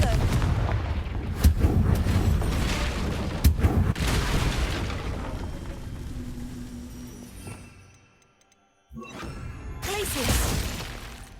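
Confringo fire spell explosions in the Hogwarts Legacy video game: a run of loud, sharp blasts and booming impacts with rumbling tails, fading to near silence before another burst of crashing noise.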